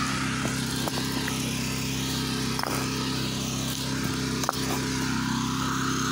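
A gas pressure washer driving a surface cleaner across a driveway gives a steady, loud motor drone with a broad hiss of spraying water, running continuously with a few faint knocks and no talking.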